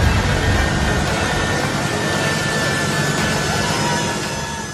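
A C-130J military transport aircraft takes off from Kabul airport with a loud, steady roar of engine noise that fills the whole span before easing slightly near the end.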